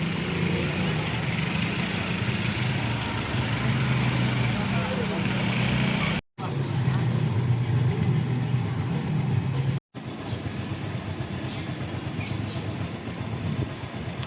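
Motorcycle engine running steadily on a road in Barangay Gatbuka, a continuous mid-pitched drone with wind-like rumble, briefly cut twice; voices talk over it.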